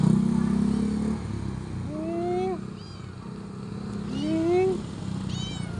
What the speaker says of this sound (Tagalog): Wow, naman itong pusa.